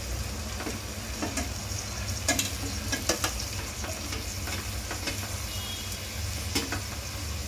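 Bhogichi Bhaji vegetables with drumstick pods, papdi beans and potato are stirred in a sizzling pan, a steady frying hiss broken by repeated scraping clicks of the spoon, close and continuous.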